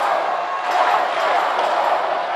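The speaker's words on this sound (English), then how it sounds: "Crowd trying to get in her ear." Dense crowd noise fills a university women's volleyball match, Hawaii against SMU, as a player steps back to serve: a steady, loud roar of many voices that swells slightly midway and holds without pause.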